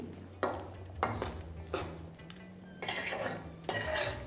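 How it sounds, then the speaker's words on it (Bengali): A spoon scrapes and clinks around a pot of soybean and potato curry after water is added, in several rhythmic strokes with a soft wet swish between them, close and fairly quiet. "আর জল দেওয়ার পরে একবার ভালো করে মিশিয়ে নিয়ে এটাকে ফুটতে দিন।"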